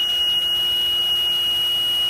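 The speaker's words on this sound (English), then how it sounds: "I don't know if you can see it, but the alarm went off." An electronic alarm beeps in short repeated bursts over a steady high tone and background hum, with no voices.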